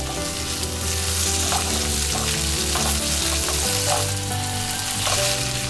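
Onion and tomato fry steadily in a pan for a tofu scramble, a loud, continuous sizzle with occasional stirring scrapes, close and without any voice.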